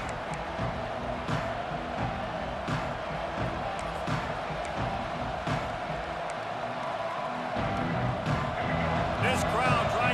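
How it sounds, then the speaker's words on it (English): A stadium crowd at a Georgia vs Ole Miss college football game keeps up a steady, dense roar for the whole stretch, with an announcer's voice talking over it. "This crowd trying to make life miserable for this offense."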